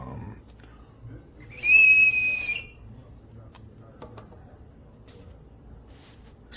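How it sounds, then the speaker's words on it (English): Built-in whistle on a SHARPAL 101N pocket knife sharpener gives one short, shrill, high-pitched blast lasting under a second, close and loud against quiet surroundings. "Also comes with a built-in whistle."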